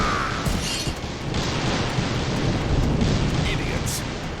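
A lightning strike and thunder in the video game Drakengard 2: a sustained, loud, broad crackling roar and rumble that rises and falls slightly over a few seconds.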